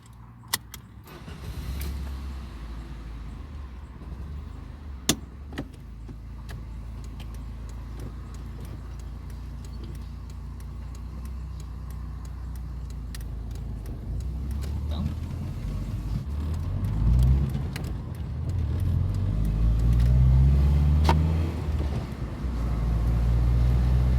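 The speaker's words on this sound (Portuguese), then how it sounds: "vocês vão sentir um pouquinho da máquina andando na estrada" A Fiat Brava driving on the road, heard from inside the cabin as a steady low engine rumble and road roar that swells louder toward the end, with a few sharp clicks early on.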